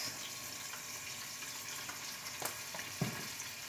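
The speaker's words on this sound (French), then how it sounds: "Je vais le faire rôtir sur tous les côtés" Rabbit meat seasoned with pepper and herbes de Provence sears in a pan with a soft, continuous sizzle and a couple of faint knocks, low and even throughout.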